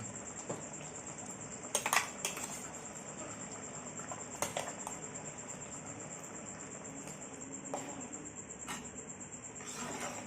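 Veg kurma boils in a pot, giving a soft, continuous bubbling and popping simmer close by, with irregular splutters and a few louder clicks over a steady background hiss.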